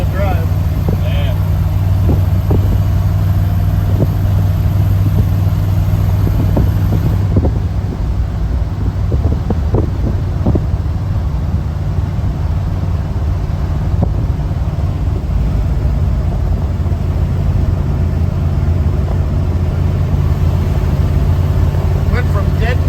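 A 1971 Ford F250 truck, just revived after nine years sitting in the trees, drives down the road with a steady low engine drone and heavy wind rush, while people talk over it.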